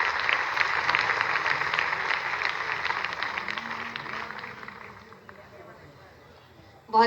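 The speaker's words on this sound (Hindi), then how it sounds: "आप सभी की जोरदार तालियां विमोचन के अवसर पर अपेक्षित है।" Sustained applause from an audience at the launch of a Uttar Pradesh tourism guide during a World Tourism Day exhibition opening, steady and fairly loud before fading to quiet, with a brief bump of noise at the very end.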